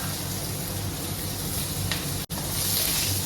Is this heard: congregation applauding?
no